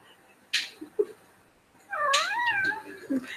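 A cat gives a long, wavering meow at close range, preceded by a couple of soft clicks and rustles.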